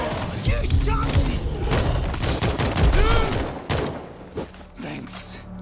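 Rapid bursts of gunfire and thudding impacts in the zombie shooter World War Z, dense and loud throughout, with a voice speaking over the shooting before it thins out near the end.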